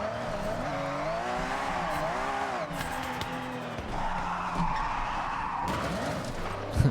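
Drifting car in Forza Horizon 6, driven on a steering wheel setup, with a continuous engine drone and long wavering tire squeal as it slides through a corner, loud and steady with no speech.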